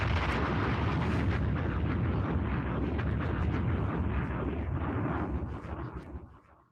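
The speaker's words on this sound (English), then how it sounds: "let me give a bomb to myself." Bomb explosion sound effect played during a livestream: a loud, sustained rumbling blast that roars continuously, then fades away at the end, with no talk over it.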